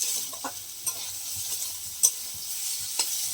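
Sliced bitter gourd and potato frying in oil in a kadai, a soft continuous sizzle broken by a few light scraping stirs and small clicks from the spatula, with no voices.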